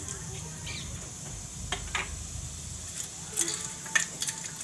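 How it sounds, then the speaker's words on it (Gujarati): Cumin seeds fry in hot oil in a home kitchen, giving a faint, steady sizzle with a few soft stirring sounds near the end. "તો આપણું તેલ ગરમ થઈ ગયું છે તો આપણે એમાં જીરું નાખી દેવું"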